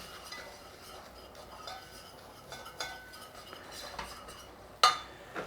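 A whisk stirring butter and flour in a pan for a tuna and broccoli casserole sauce, soft scraping and light clinks, faint and intermittent, ending with a sharper metallic tap near the end.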